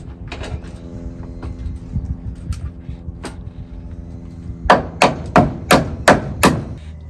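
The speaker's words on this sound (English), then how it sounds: "he's just hammering in all the ones that I kind of misfired" Nails are driven into wooden chicken coop framing with a hammer. A few scattered knocks come first, then a quick run of six sharp, loud blows close by.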